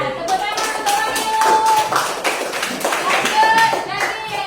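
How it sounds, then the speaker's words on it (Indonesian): A group of children claps for a classmate named Wahyu, a brisk, fairly loud patter of hands lasting several seconds, with young voices and a sustained tone mixed in. "tepuk tangan untuk Wahyu"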